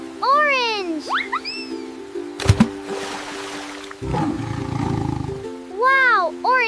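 A cartoon tiger roars in a bright children's jungle-animal scene, a loud, rough burst mixed with springy boing and whoosh effects and playful voices.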